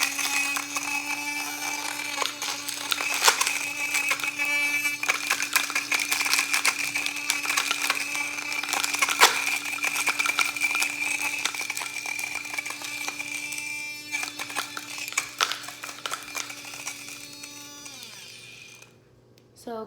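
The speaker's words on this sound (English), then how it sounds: "So crushed up ice works" A Blend Jet portable blender grinds and crushes ice in a loud, steady rattling churn that runs almost twenty seconds, with brief pauses and shifts before it tapers off near the end.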